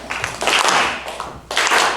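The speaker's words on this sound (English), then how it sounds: "Let's go ahead and start off with a slow clap." An audience claps together in a slow, uneven build, with bursts of broadband hand claps swelling and dipping over about two seconds, moderately loud and fairly close, with no talking.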